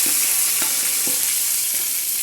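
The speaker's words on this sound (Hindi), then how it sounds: "और अब ये तड़का इसके ऊपर लगाएंगे" Hot tadka tempering poured over dahi phulki sizzles steadily and loudly, with a dense hiss and a few brief popping crackles spaced through it, with no voices.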